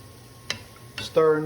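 Onions softening in a pot for a beef sauce piquant are stirred, with a couple of brief scraping strokes and a rising sizzle near the end, close and moderately loud.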